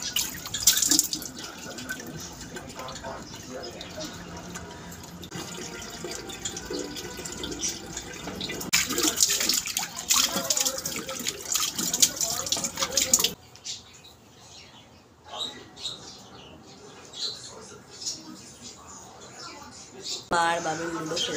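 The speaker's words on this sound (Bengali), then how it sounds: "এখনও কলে জল পড়ছে" Tap water runs steadily from a household faucet while dishes are washed. The close, continuous splashing has scattered clinks and drips, and a voice is heard talking partway through.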